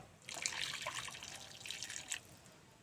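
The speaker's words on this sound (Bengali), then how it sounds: "এখন গ্রেভি বানানোর জন্য আমি এখানে অল্প পরিমাণ জল দিয়ে দেব।" A small amount of water is poured into a simmering spiced gravy for a chana dal malai curry, a soft splashing trickle lasting about two seconds, close and quiet.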